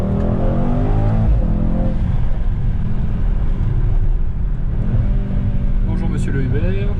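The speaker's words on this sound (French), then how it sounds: "c'est un V8 biturbo" A Mercedes-AMG GT63 S with a V8 biturbo engine rumbles loudly and continuously, with deep revving in the low end heard from inside or near the car as people talk over it.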